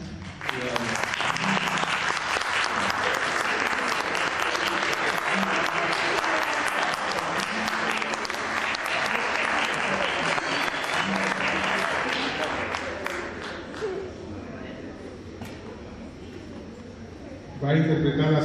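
Loud applause from a concert audience at a student recital, dense continuous clapping for about thirteen seconds before thinning and fading, then a brief renewed burst at the very end.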